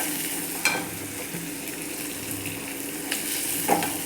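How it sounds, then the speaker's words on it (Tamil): Green chillies, onions and capsicum frying in a pan while being stirred, a steady close sizzle broken by occasional clinks and scrapes of the spoon against the pan, with no voices. "நல்லா கிளறி விடுங்க."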